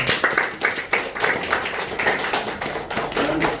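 Applause at a fourth-quarter board meeting of an administrative alumni association: a roomful of hands clapping briskly in irregular bursts, close and fairly loud throughout, with little talk.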